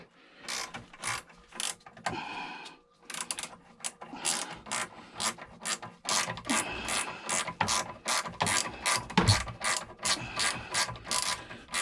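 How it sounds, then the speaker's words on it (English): Close, sharp ratcheting clicks in quick repeated bursts as a wrench tightens an oil burner filter, with a short pause early on before the clicking resumes, no voices. "Then you grab your wrench again, turn it to the other side."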